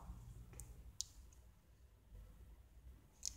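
Computer mouse clicks while installing a WordPress plugin, two or three sharp isolated clicks spaced apart over a quiet background.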